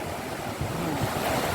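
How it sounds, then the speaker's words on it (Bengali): Sea waves roar at high tide, a steady broad surf rumble that fills the whole short stretch with no voices. "দেখেন সমুদ্রের গর্জন সমুদ্র কিভাবে কথা বলে"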